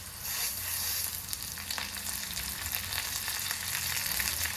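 Curry leaves crackling in hot oil for a misal, a dense continuous sizzle and spatter held close and steady from start to finish, with a few stirring scrapes and no voices.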